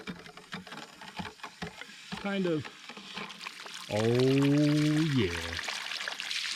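Water runs and splashes from a newly installed freeze-proof outdoor garden faucet in bursts, with tonal squeals between and under the flow while people talk nearby.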